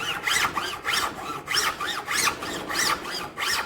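A hand saw cuts through a piece of homemade micarta in quick, regular back-and-forth strokes, a close, gritty rasping about two or three strokes per second.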